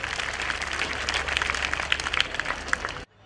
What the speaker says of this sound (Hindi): सो एक बार जोरदार तालियां श्रीकांत सर के लिए।